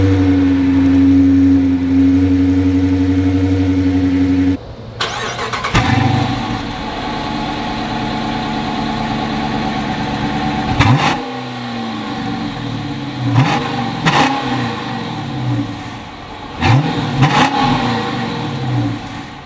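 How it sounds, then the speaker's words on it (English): A stock 2016 Dodge Challenger R/T V8 with factory exhaust idles loudly, cuts off, then cranks and fires up, followed by several sharp revving blips rising and falling over a rumbling idle, close and loud. "start it up, listen to that exhaust note, and see exactly what this stock RT sounds like"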